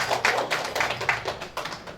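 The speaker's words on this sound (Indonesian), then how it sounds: "Tepuk tangan dong." Audience at a PIRA organisational orientation event in Malang clapping together, a dense patter of hand claps rising and falling in bursts, fairly close and moderately loud, with no talk over it.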